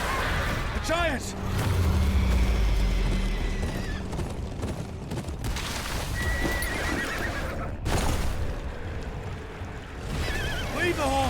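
Horses in the Game of Thrones KingsRoad video game whinny sharply several times over pounding hooves and a rushing, watery background, loud and close, with a voice speaking over part of it.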